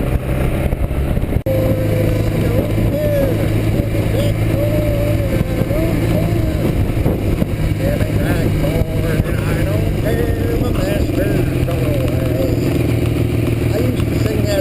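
A motorcycle rides at speed, its engine droning steadily and loudly under strong wind rush. A voice is faintly present but mostly buried beneath the engine and wind.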